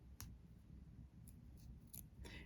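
Small scissors snip embroidery thread for a Hardanger bookmark, a handful of quiet, crisp separate cuts spaced over a couple of seconds against a low background hum.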